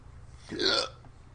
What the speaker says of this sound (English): Excuse you. Hiccup.